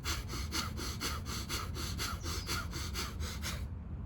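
Pranayama breath work during a high-intensity muscle yoga workout, heard as rapid, even, forceful breaths repeated about twice a second, close and steady, stopping abruptly near the end.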